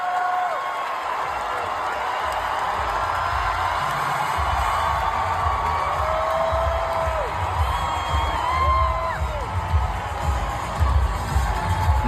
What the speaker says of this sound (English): Here's get a little feel of the crowd.